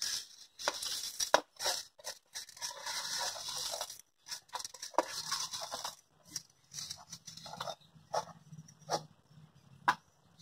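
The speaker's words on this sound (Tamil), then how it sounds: "மல்லியும் சேர்த்து நம்ம நல்லா இடிச்சுக்கிறோங்க" Cumin and coriander seeds are crushed in a mortar with irregular, sharp pounding strikes, some rapid and some spaced by short pauses. The blows are close and fairly quiet, with no talking.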